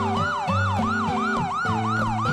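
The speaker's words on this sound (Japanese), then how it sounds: "このサイレンはどこかでなんか起きてるで" A wailing siren cycles rapidly up and down, loud and close, with a low engine rumble beneath it.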